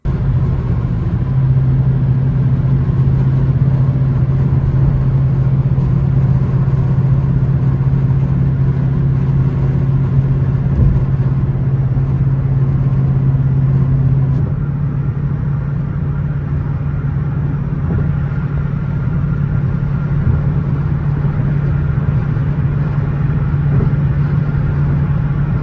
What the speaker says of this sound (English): Here's cruising at 75 and 85.